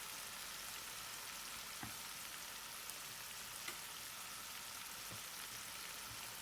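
Spinach-wrapped wontons stir-frying in a pan after boiling, giving a steady low sizzle throughout with a few faint clinks of a utensil, no voices.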